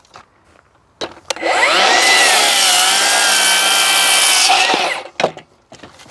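A saw cuts through a wooden joist in one loud, continuous pass of about four seconds, close by, with a few sharp knocks just before and after and no talking.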